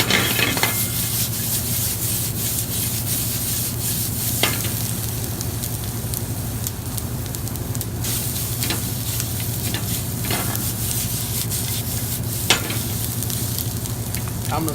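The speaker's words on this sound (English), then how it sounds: "I'm going to saute this down," Chopped vegetables with garlic, Cajun seasoning and fresh thyme sautéing in a pan for a shrimp étouffée, a steady loud sizzle with occasional stirring scrapes and taps, close up, no talking.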